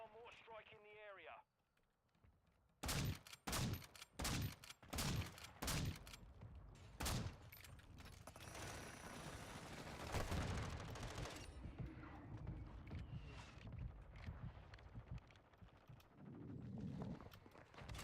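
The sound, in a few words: mortar strike gunfire in a video game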